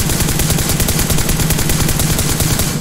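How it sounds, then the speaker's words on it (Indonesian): Loud, rapid automatic gunfire from PUBG Mobile rattles without a break for about three seconds as a motorcycle is shot. "Tuh ditembak juga tetap meledak ya"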